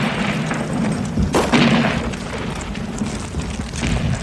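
Artillery shells exploding in a World War I battlefield scene from a war film, a sharp heavy boom near the middle standing out over a continuous rumbling, crackling din of distant bombardment.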